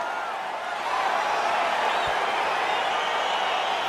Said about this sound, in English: crowd getting excited as this fight gets underway